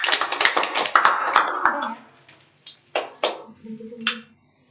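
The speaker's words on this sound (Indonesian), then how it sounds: "boleh tepuk tangan ke Mbak Adel" A class of students claps for a classmate, a burst of ragged hand clapping that thins after a couple of seconds into a few scattered, separate claps before stopping.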